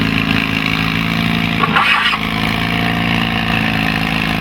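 A pulling tractor's engine rumbling steadily at a tractor pull event in Ilderton, Ontario, a loud sustained drone with a brief surge in the middle.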